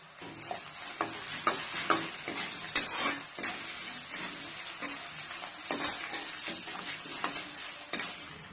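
Curry leaves and asafoetida frying in hot oil for coconut rice, a steady close crackle with bursts of sharper spitting pops and occasional utensil stirring scrapes throughout.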